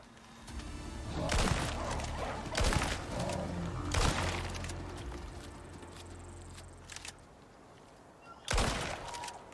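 Gunshots fired at a bear in a survival video game, a few sharp loud cracks spaced a second or two apart with a final shot near the end, over faint ambient background.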